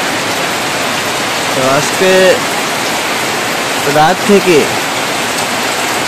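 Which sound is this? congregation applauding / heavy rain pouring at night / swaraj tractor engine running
heavy rain pouring at night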